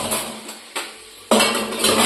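Dishes and pots clatter as they are handled in a home kitchen during cooking, with several sharp clinks and a louder burst of metal clatter near the end, close up and with no talk.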